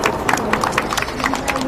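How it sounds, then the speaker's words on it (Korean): Applause from an audience at an outdoor press conference about an election lawsuit, a steady crowd clapping that carries through the whole moment at moderate loudness. "그런 마음으로 고마움에 큰 박수 부탁드립니다."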